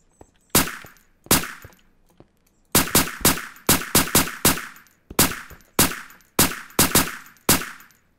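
Gunfire in the Crafting Dead video game: sharp, loud shots fired singly and in quick clusters, about seventeen cracks with short gaps between groups and no talk over them.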